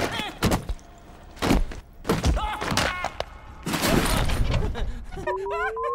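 Gunshot from a low-budget horror film, a few loud sharp impacts and thuds mixed with groans and effects, ending in a tonal warble.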